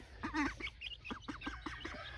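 A duck quacks several times in a rapid series of short, raspy calls, fairly faint against low background noise.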